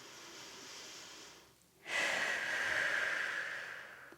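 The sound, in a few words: deep breathing during neck exercise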